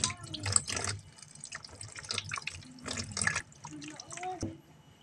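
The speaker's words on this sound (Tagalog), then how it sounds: "Hugasan po natin ang sibuyas dahon." Spring onion leaves washed under a running kitchen tap, water splashing and gurgling unevenly as the leaves are moved through the stream, with a voice faintly in the background.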